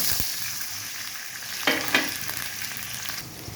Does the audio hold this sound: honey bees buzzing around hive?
no